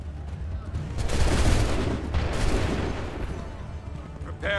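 Massed musket volley from soldiers in Assassin's Creed 3, a loud rolling crackle of shots that swells and lingers with a booming tail, close, with a voice underneath.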